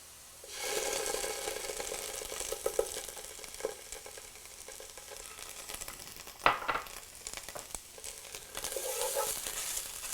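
Tomato paste is stirred into softening carrots and celery in a hot pan, a steady close sizzle with scraping stirs and one sharp knock of the utensil against the pan.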